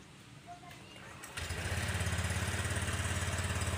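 A Honda Click 125i scooter engine cranks and catches after a few quiet clicks, then settles into a steady, close idle with a fast pulsing putter.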